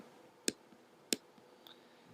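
Two sharp computer mouse clicks about half a second apart while retouching in Photoshop, quiet and close, with a fainter tick following and no talking.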